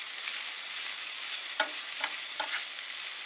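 Rice frying in a pan gives a loud, steady sizzle from start to finish, with three soft scrapes of a spoon stirring it, close up and without voices.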